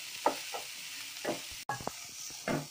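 Vegetables cooking in a pan with salt for fish fried rice, heard as a few separate bursts of stirring and soft sizzling with short quiet gaps and no speech.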